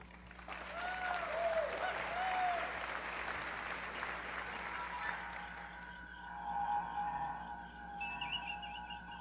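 Audience applause welcoming a speaker at the AAMD TechCon 2020 kickoff: a steady wash of clapping from a room of people, fairly close and loud, holding for several seconds before thinning out toward the end.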